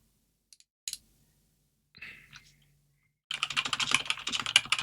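Keys on a computer keyboard clack during a 2v2 real-time strategy match, first as a few scattered taps, then as a rapid, steady burst of close-up typing with no talking.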